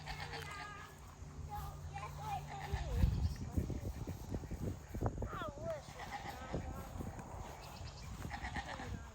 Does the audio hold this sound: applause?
no